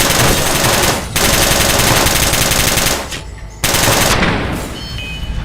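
Rapid automatic gunfire from a weapon in Fallout: New Vegas, loud and continuous bursts with a brief break after one second and a longer pause near three seconds before firing resumes, no talking.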